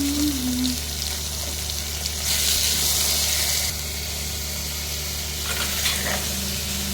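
Tomato, onion and green chilli sizzle steadily in a hot pan, a continuous close frying hiss with brief stirring bursts, no voices.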